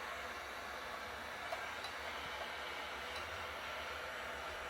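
Heat gun warming a tank grip pad on a Triumph Street Triple motorcycle, a steady, fairly quiet whooshing blower hiss that runs unbroken throughout.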